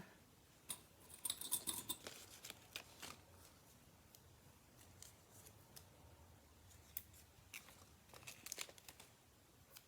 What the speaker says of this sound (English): I'm just going to snip those apart.